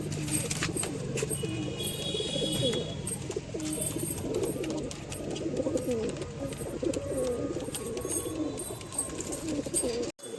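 Pigeons coo continuously through a busy loft, the layered throaty calls of a female pigeon and others overlapping in a steady, close chorus with faint chirps above.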